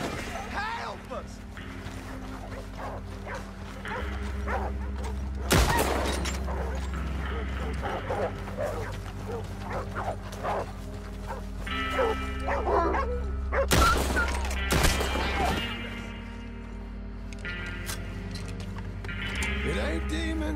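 Dogs bark and yip repeatedly in Red Dead Redemption 2, a frantic pack close by with sharp bursts and whimpers over a low game drone, with brief booms and voices speaking in between.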